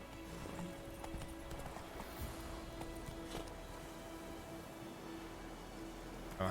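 Roach, the horse in The Witcher 3 video game, galloping with a steady, rhythmic clip-clop of hooves over a continuous low ambient bed, fairly quiet and without speech.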